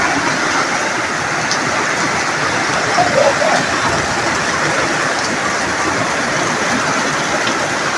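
Heavy rain pours during floods in Pakistan, a dense, steady hiss of water hitting surfaces that stays constant throughout, with no voices.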